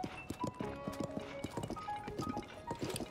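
Horse hooves clip-clop at a steady riding rhythm in Zelda: Tears of the Kingdom, mid-loud and close, layered over game music with a few brief whinny-like tones.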